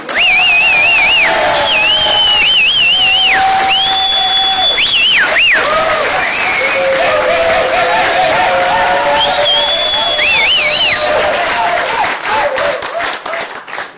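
Guests at a birthday party, staged as a mock wedding, welcome the couple with loud, sustained applause. Dense clapping and crowd noise run throughout, mixed with piercing whistles and cheering.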